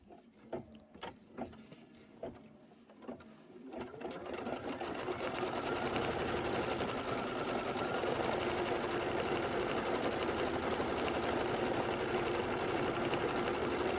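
A sewing machine stitching down quilt pennants on a pillow project starts with a few separate mechanical clunks, then settles into a fast, steady, close whirring run of stitches.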